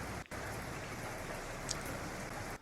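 Rain patters steadily on a tin roof, a dense close hiss of drops that runs without a break, with no voices.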